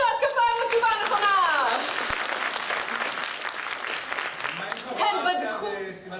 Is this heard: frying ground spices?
no